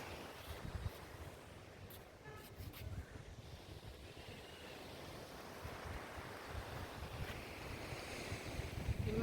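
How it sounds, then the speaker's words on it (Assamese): Bay of Bengal waves wash onto the rocky shore at Pondicherry, a steady roar of surf mixed with gusty wind buffeting the microphone, with no talking. "সাগৰৰ পাৰ পালোহি পণ্ডিচেৰী"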